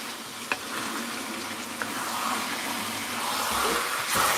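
Pork and vegetables sauté in a pan for Bicol Express, giving a steady, moderate sizzle with a few soft clinks and stirring scrapes, and no voices.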